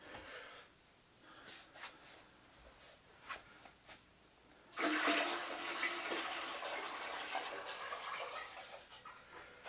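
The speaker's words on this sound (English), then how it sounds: "Let's go ahead and dump the cold water in now" Cold water is poured in a heavy gush into a mead fermenter in a Catalyst fermentation system, a loud, steady rush after a few light clunks and drips.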